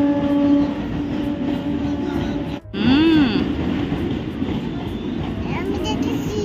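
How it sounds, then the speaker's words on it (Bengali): A train rolls past alongside the Ganges, a loud steady rumble of wheels and carriages with a brief rising horn-like tone midway, while people talk over it. "শোনা ট্রেন, শোনা ট্রেন।"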